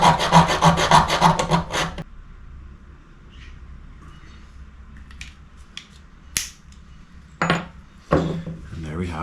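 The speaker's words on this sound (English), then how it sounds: "So when it comes to cutting our spoons, you could try brute force them, you could try snap them." Metal spoons being cut for arrowheads, opening with a burst of rapid rhythmic rasping strokes, then sparse metallic clicks, taps and scrapes, close by with occasional quiet voice.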